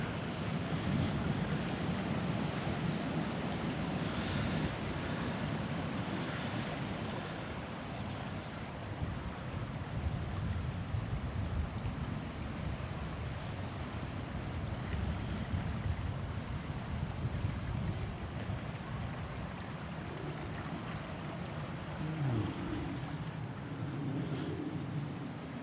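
Steady rushing water with a broad roar from a fast-flowing flooded river, continuous and fairly close, mixed with some wind noise and no voices.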